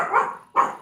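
A dog gives two quick, close barks in a row, the second following a short pause after the first, with nothing else heard.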